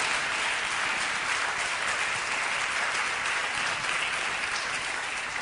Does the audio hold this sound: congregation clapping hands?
yes